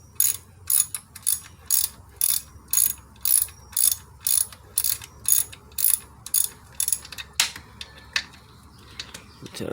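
A ratchet tightening an alternator bolt on a 2007 Ford Mustang with the 4.0 V6, a rapid run of crisp, evenly spaced clicks close by that slows and fades into a few scattered clicks at the end, no talking.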